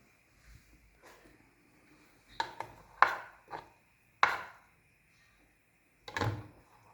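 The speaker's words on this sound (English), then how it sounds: "then I chop it into tiny little pieces" A knife chops fresh coriander or parsley on a board in a handful of separate, close, crisp taps with short pauses between them.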